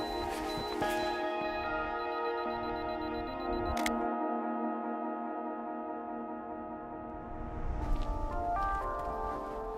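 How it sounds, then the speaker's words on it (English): Canon EOS Ra mirrorless camera running its 10-second self-timer, a steady electronic tone sustained across the clip with a sharp click partway through, heard alone without voices. "10-second timer."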